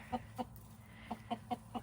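Chickens cluck in a series of short, sharp calls, about six in under two seconds, fairly close over a low background hum.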